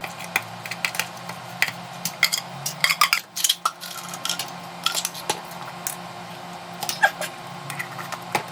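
Raw dog food patties being mixed by hand in a bowl for dog feeding, with scattered clinks, scrapes and soft knocks against the bowl in an irregular rhythm, close by with a steady low hum behind.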